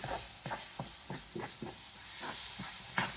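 Tomato pieces cook in gravy on a stovetop, giving a steady sizzling hiss broken by soft, irregular bubbling pops.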